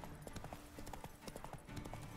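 Rapid hoofbeats of a horse galloping through marshy ground in The Witcher 3: Wild Hunt, the clip-clop rhythm steady and close, with a brief whinny and faint game ambience underneath.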